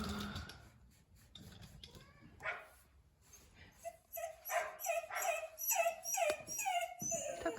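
A dog whimpers and yips repeatedly in high, rising whines and short barks, close by, growing more insistent toward the end.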